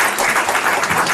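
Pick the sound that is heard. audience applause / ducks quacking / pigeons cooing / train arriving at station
audience applause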